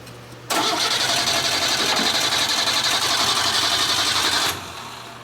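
A small gas engine catches on its battery after being primed with fuel, roaring to a loud steady run for about four seconds and then cutting back to a lower hum; no talking.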